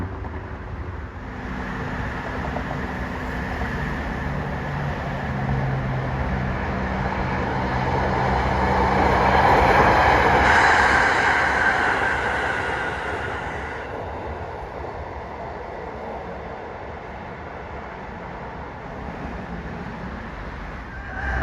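Express freight train No. 986 rolls past on the southern line near Rama VI Bridge, a steady rumbling roar that builds to a peak mid-pass then eases, with a continuous high hiss of wheels on rails.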